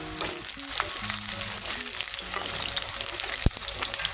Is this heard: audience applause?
no